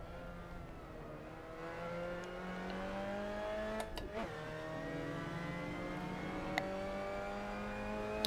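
A racing car engine in the video game Assetto Corsa revs up through the gears, its tone climbing steadily with brief dips at shifts. The simulated engine sound is moderately quiet and plays alone, without talk.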